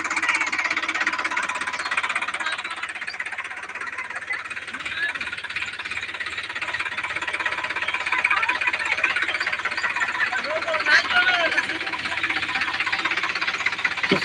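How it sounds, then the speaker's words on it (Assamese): A large tractor's big diesel engine rumbles and knocks steadily as it approaches, loud and continuous, with its chugging holding close throughout. "এইখন ডাঙৰ ট্ৰেক্টৰ এখন আহি আছে"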